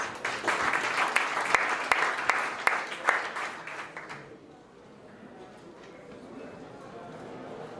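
Audience applause at a startup competition as a speaker takes the stage, loud clapping for about four seconds that then stops, leaving quiet room tone with faint movement.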